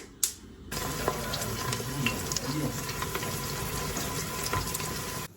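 Steady crackling sizzle of onion frying in a pan for vegetable soup, continuous and close, with occasional clinks and scraping, after a brief sharp knock at the start.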